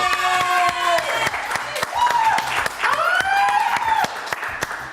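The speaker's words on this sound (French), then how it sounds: "On l'applaudit très fort." Studio audience applauding the hosts of a French TV news-comedy show, a steady wash of clapping throughout with music tones and a voice over it.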